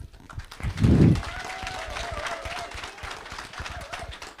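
A crowd of young people at the African Climate Summit breaks into applause, a brief burst of clapping rising and then thinning into scattered claps and murmuring through the rest.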